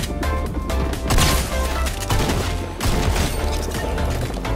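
Fortnite gunfire crackles in dense, overlapping bursts of shots and impacts, loud and continuous throughout with no clear pauses between volleys.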